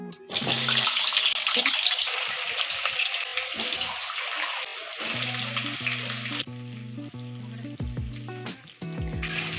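Potatoes fry in hot oil after a whole cumin tempering, for a Bengali lentil fritter dish, with a loud steady sizzle, occasional stirring clatter, and a faint tonal hum partway through.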